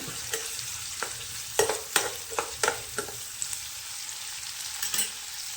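Vegetables and beans fry in a pan over low heat, a steady soft sizzle broken by repeated close scrapes and knocks of stirring.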